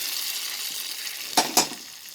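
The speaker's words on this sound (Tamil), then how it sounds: "இப்போது தேங்காய் கடுகு கருவேப்பிலை போட்டு தாளிச்சுட்டு சேர்த்துடலாம்" Coconut, mustard seeds and curry leaves sizzle in a hot pan for a Kerala-style jackfruit thoran, a steady frying hiss with two quick sharp crackles near the end.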